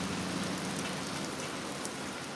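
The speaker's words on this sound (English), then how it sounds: "It is just pouring rain out here." Heavy rain pours down outdoors as a steady, dense hiss of drops hitting the surface, continuous and fairly loud throughout with no voices.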